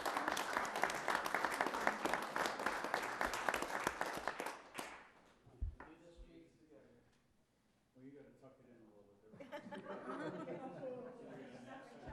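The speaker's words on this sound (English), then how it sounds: "I'll give you a clap" A small group claps briefly at a city council meeting in Apache Junction, a burst of applause lasting a few seconds, then the room goes quiet before murmured conversation and a little laughter pick up.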